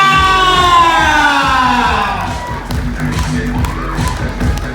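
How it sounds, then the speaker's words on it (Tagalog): A crowd at an 18th birthday debut in the Philippines cheers, whoops and claps loudly and close, with shouting voices riding over steady applause that tapers slightly toward the end. "isa munang masigabong palakpakan na may sigawan!"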